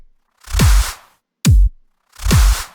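Three punchy drum hits from a riddim-style beat: a normal kick layered with claps, plus a reverse clap swelling into the next hit, loud and close, alone in a short sparse pattern.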